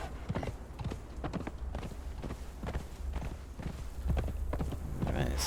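A horse's hooves clip-clop steadily at a quick pace on the ground in the video game Conan Exiles, close and rhythmic, with light game ambience underneath.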